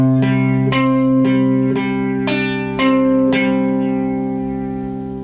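Guitar picking a song's riff, played as clear plucked notes with several sharp attacks over ringing strings, close and steady with no talking.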